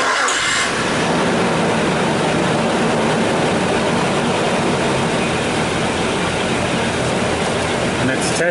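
Car engine cranking during a cold cranking test with a TopDon ArtiBattery 101 tester attached, a steady loud churning drone lasting several seconds without clear breaks.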